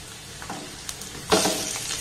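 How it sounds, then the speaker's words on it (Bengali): Oil sizzles steadily in a pan as onion and gram-flour fritters shallow-fry in a little oil, with a louder burst of crackling partway through and a few soft scraping stirs. "একদম কম তেলে এটা কত সুন্দর ভাজা যায়"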